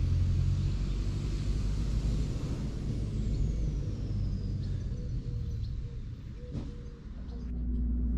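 A broken-down car in Turkey is hauled onto a tow truck with its rear end scraping the ground; a steady, close mechanical rumble drones throughout, with a few sharper clanks and scrapes toward the end.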